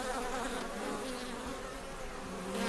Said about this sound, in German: Und die Bienen kommen mit Pollen zurück, um die Brut zu versorgen.